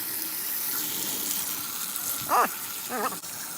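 A washable K&N air filter is rinsed under a running tap, a steady close hiss of flowing water. Two short squeaky bursts, likely handling, sit briefly on top.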